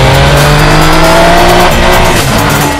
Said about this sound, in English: The trademark whistling sound of the 3-cylinder engine is muted, and now the sound is meatier and bassier than before.